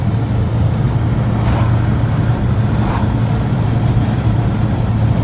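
A British Leyland Austin Allegro drives along with a steady low engine drone, road rumble and wind noise, loud and continuous throughout, with no talking.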